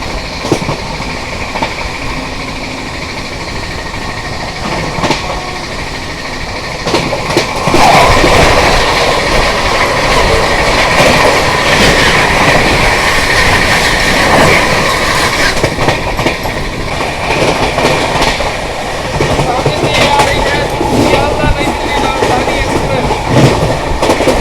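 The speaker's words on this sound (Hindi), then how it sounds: "उसके पीछे आ गई सियालदह नई दिल्ली राजधानी एक्सप्रेस।" The Sealdah–New Delhi Rajdhani Express thunders past at close range as a steady, loud rumble with rhythmic wheel clatter, swelling stronger after the first few seconds and holding there.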